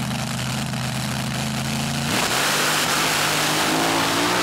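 The Paperboy Express dirt dragster sits loud and close, engine burbling, then suddenly roars into a full-throttle launch as its run begins, with the tone rising under the blast of noise.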